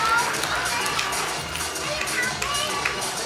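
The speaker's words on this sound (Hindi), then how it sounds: "जोरदार तालियां" A crowd at an award ceremony for a table tennis team champion applauds and cheers steadily and loudly, a dense wash of clapping and voices from start to finish with no pause.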